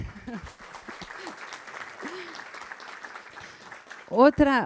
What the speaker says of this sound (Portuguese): eu queria uma salva de palmas para ele